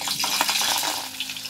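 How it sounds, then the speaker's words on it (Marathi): Curry leaves drop into hot oil and ghee tempering for khichdi, giving a loud, steady crackling sizzle close up that runs without pause and no voices. "आता खिचडीला फोडणी देते"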